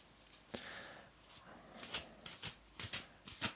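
A square oracle deck being shuffled by hand close up, with soft repeated papery riffles and slides in uneven bursts and no talking.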